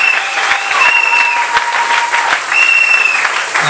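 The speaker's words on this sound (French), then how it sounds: "On peut se mettre en acclamant très fort." A church congregation breaks into loud, sustained applause and cheering that fills the space for the whole stretch, with steady tones ringing through the clapping.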